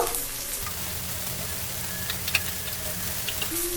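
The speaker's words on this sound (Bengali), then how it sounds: "আলুগুলো ভেজে নেব" Potatoes frying in oil in a pan, giving a steady, moderately loud hiss and crackle that holds evenly for a few seconds with no talk.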